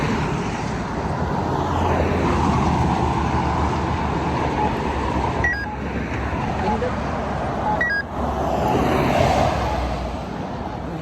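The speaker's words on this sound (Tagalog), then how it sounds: "ang bilis ng mga sasakyan." Vehicles speed past on a wide road at a crossing in Columbus, a continuous loud roar of traffic with swells as cars rush by, and someone speaks over it at times.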